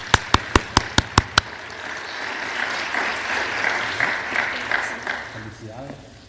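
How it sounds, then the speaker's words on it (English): Audience at an academic symposium breaks into sustained applause, preceded by a few sharp, evenly spaced claps, then a dense steady patter of many hands that fades toward the end. "So please give her a round of applause."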